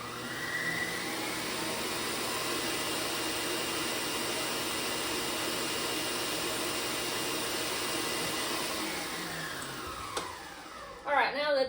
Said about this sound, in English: there's nothing wrong with just mixing this by hand, but I guess you can say I'm lazy. And I'll just use my mixer.